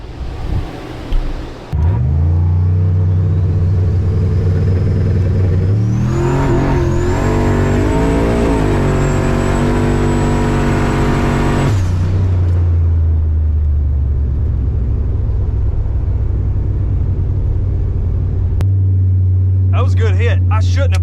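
A fast street-prepped brick-style car launches hard down a street, its engine roaring and revving loud and close, climbing in pitch through the run before settling to a steady drone, then a brief rattle at the end.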